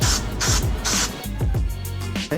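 Several short bursts of aerosol cleaner sprayed onto a new clutch pressure plate for a Nissan 350Z/G35 clutch job, loud close hissing blasts separated by brief pauses, about five sprays.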